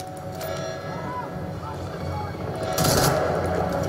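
Rapid bursts of gunfire from the video game Crysis 2, sounding over steady game background noise, with a louder volley near the end.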